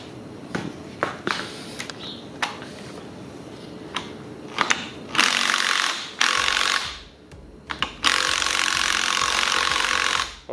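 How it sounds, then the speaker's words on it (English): Small impact wrench loosening the front strut bolts on a Chevrolet Cruze, loud close bursts of hammering rattle in several runs, the longest lasting a couple of seconds, with clanks and tool handling between them. "let's get the little impact and see if it's going to do anything"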